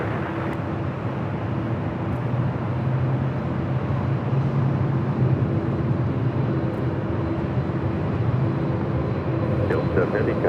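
A Delta heavy jet taking off from LAX, heard as a loud, sustained, broad engine roar that holds steady throughout, with a voice talking faintly beneath it.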